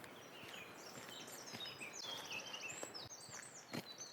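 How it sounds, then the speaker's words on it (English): Quiet woodland ambience in the Luxulyan Valley, Cornwall, with several small birds chirping and warbling in the distance, short high trills scattered throughout. "The birds making lovely sounds there."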